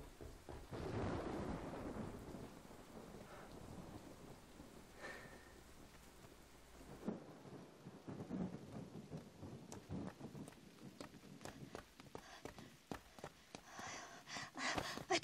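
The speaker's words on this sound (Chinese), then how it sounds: "这雨还没停呢。" Rain falls steadily on surfaces while thunder rumbles low and long, then the downpour turns patchier with scattered sharp drops and splashes, no voices present.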